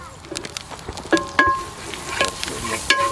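Beef and tapioca stirred in a large pot outdoors for Kerala-style beef with kappa, giving scattered scraping and clattering strokes over a low sizzle, with a few sharper knocks and faint bird calls in the background.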